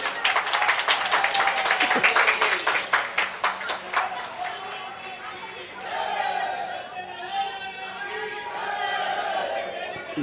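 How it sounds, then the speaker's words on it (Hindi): A crowd at a spiritual leader's gathering bursts into loud, dense applause lasting a few seconds, then it thins into scattered clapping as a voice speaks over the room. "इनके प्रयास को सबको तालियां बजा के स्वागत करो"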